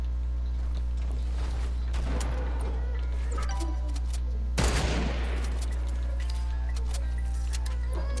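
Gunfire in a Fortnite match, a few scattered shots and one sharp louder burst midway, heard faintly under a steady game background hum.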